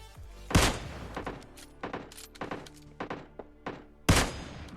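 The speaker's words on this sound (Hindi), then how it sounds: "सामने से मेरे को कुछ गन साउंड्स वगैरह आते हैं" Gunfire in the PUBG Lite battle royale game: two loud, sharp shots open and close the passage, with a rapid run of lighter bursts and thuds in between.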